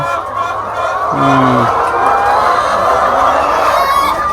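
Chickens on an egg farm in Laos, with fish ponds nearby, give brief clucks and fowl calls under a steady background hum, fairly close and moderately loud.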